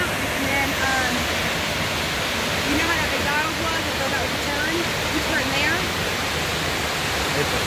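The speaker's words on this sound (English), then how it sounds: "Most beautiful water fountain in the area. Waterfall." Waterfall at Dennis Cove in Northeast Tennessee, a loud, steady roar of falling water heard up close, with faint voices talking under the rush.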